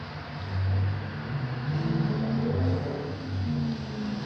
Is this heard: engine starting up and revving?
yes